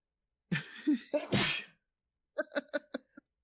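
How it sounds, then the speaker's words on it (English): One loud, close sneeze with its sharp breathy burst, then a short pause followed by a rapid run of small staccato clicking or chattering sounds. "I'm gonna sneeze again."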